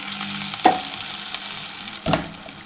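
Green chilies, turmeric and ginger paste fry in a pan with a soft continuous sizzle, broken by two sharp scraping stirs of a spatula, close and clear with no voice.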